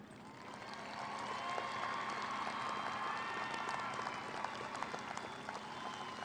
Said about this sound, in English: Honor graduates, please stand and receive recognition for your academic accomplishments with a round of applause.